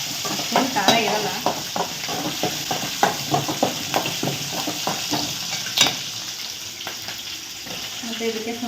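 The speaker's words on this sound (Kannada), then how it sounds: "ಮೆಣಸಿನ್ಕಾಯಿ ಚೆನ್ನಾಗಿ ಫ್ರೈ ಮಾಡ್ಕೋಬೇಕು." Medium-hot green chillies fry in oil in a pan, a steady close sizzle broken by repeated scraping stirs and sharp spatters, with no talking.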